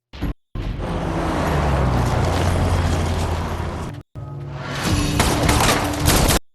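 Heavy sustained burst of gunfire and booming impacts from an action scene in the film Ballerina (2025), loud and dense, cut briefly by short silences, then a second volley with metallic mechanical clatter.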